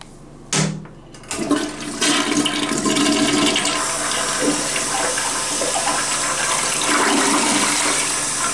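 An American Standard toilet in a hotel bathroom flushes loudly, starting with a sharp lever clunk and then a sustained rushing swirl of water that continues steadily to the end.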